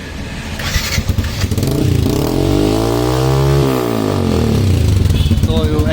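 A Yamaha FZ15 motorcycle fitted with an Akrapovic exhaust and dB killer revs loudly up close, the engine note climbing and falling through one long throttle sweep before settling back to a rough idle.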